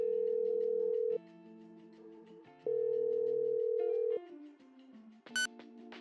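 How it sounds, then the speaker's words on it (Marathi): A telephone rings with a loud electronic ringtone: steady held tones that step between pitches in a repeating pattern, heard alone with no voices and a brief bright chirp near the end. "सोबत आता फोनची रिंग सुद्धा वाजत होती."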